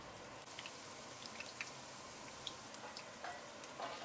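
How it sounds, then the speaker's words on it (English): Ginger and garlic frying in a pot, a faint, soft sizzle with scattered small pops and ticks, quiet and steady with no voices. "Then add the ginger and garlic into the pot and give them a stir. Fry for 30 seconds."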